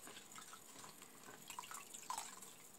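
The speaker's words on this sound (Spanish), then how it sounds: "escurro bien el agua." Water drips faintly from a sponge being wrung out, with a few soft, irregular drops and trickles against quiet background hiss.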